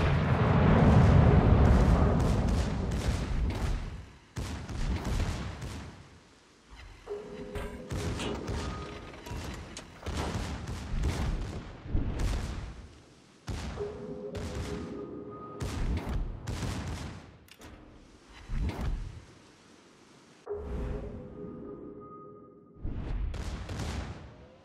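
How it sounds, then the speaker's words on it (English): Heavy naval guns fire in World of Warships, a warship game: a loud opening barrage followed by repeated booming salvos spaced a few seconds apart, each with rumbling decay, alongside intermittent tonal alarm beeps. "All stations, concentrate fire."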